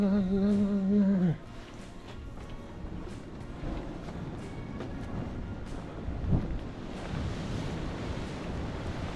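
Ocean surf from a big swell rolls in as a broad, continuous wash with wind buffeting the microphone. A person sings briefly at the start, and a surge swells slightly midway.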